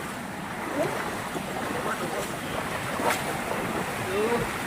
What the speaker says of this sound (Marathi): हा इथे जेवढा पाणी वाहतोय ना बघा.